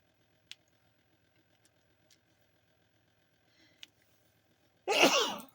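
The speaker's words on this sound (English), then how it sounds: "Feel like I'm trying to sneeze." One loud, abrupt sneeze bursts out near the end, close and sharp, after a stretch of quiet broken only by a few faint clicks and taps.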